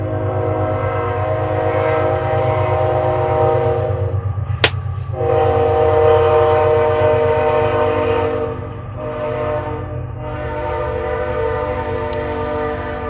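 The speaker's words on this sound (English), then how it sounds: "The train is coming." A train rolls past at close range with a loud, continuous rumble and steady rail clatter, punctuated by a sharp horn blast midway and a brief higher squeal near the end.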